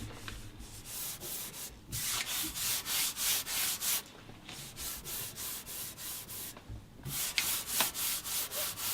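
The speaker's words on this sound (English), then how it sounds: "having too much fun sanding, so I'm just gonna let him sand for now" Steady back-and-forth sanding on wood, rhythmic rasping strokes in quick succession with a couple of brief pauses, close and fairly quiet.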